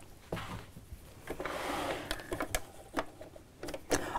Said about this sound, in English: let's sew down each side of these